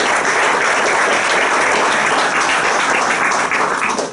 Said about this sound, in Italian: Let's give them a round of applause and welcome to the First State of New York.